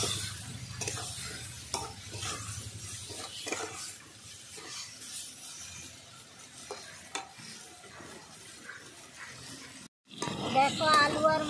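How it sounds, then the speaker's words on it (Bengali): Potatoes, chopped tomato and turmeric stir-fried together in a pan for a village-style tilapia curry, with quiet sizzling and repeated scraping and clinking of the spoon against the pan beneath intermittent talk, then a louder burst of frying near the end. "দেখো আলু আর মশলা ভালো করে কষানো হয়ে গেছে।"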